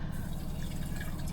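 Cold brew coffee poured from a large, heavy container in a home kitchen, a steady low liquid gush and trickle running continuously at close range with no pauses.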